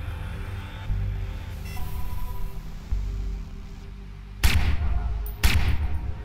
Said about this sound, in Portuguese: tá pegando o que esses tiros que não acerta o cara?